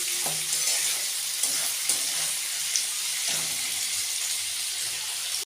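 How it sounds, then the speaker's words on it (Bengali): Onions frying in a pan until they colour, giving a steady close sizzle throughout, with a few soft stirring clinks and scrapes of a utensil over the frying. "তাহলে এটা আমরা কালার আসা পর্যন্ত একটু ভেজে নিই।"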